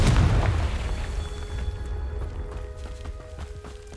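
A Confringo fire spell explodes in the game Hogwarts Legacy, a loud booming blast that rumbles and fades into a lingering crackling tail.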